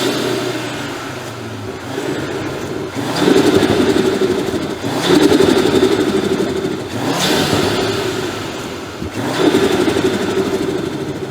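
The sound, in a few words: Audi RS3 stage 2 engine with new air intake and turbo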